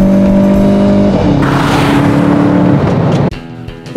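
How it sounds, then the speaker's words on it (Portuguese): A Volkswagen Golf GTI with a turbo engine and dual-clutch gearbox runs a fast lap on a race track. Its engine drones loudly and close, with gear changes breaking the rising pitch twice. "O Golf GTI aproveitou a eficiência do turbo e do câmbio de dupla embreagem para tracionar bem e entrar no top 10 do nosso ranking"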